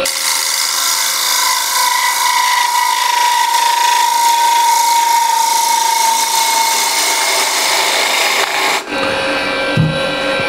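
A woodturning gouge takes a pass on a spinning piece on the lathe, a loud, continuous, hissing rasp with a steady ringing tone that cuts off abruptly near the end, leaving a quieter, duller rubbing.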